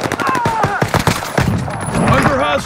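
Rapid bursts of automatic gunfire from the Call of Duty Warzone video game, close and sharp, crackling under the game's ongoing sound effects and layered voices.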